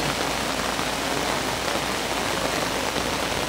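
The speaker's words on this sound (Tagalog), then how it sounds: "Oh, lakas na ulan." Heavy rain pours steadily on a mountain trail on Mount Mariglem, a dense, unbroken hiss that stays loud and even from start to finish, with no voices.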